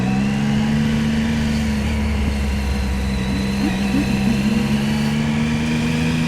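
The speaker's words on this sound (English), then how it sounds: "A bit of traffic." Engine hum of a motorcycle riding through Tokyo city traffic, a steady loud drone with other vehicle engines idling and passing close by, continuous throughout with no talking.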